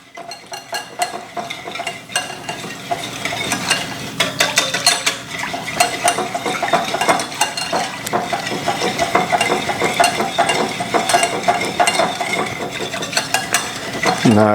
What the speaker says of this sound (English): we're going to go ahead and whisk that all up together here